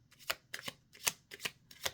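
Tarot cards are being shuffled close up in a quiet room, making five quick riffling bursts in an even rhythm with short pauses between them.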